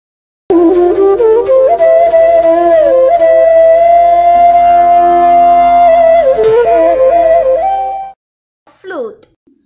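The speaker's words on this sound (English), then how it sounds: "This is a sound of flute." A flute plays a sustained, wavering melody close up for about eight seconds, then stops, followed by a brief faint sound.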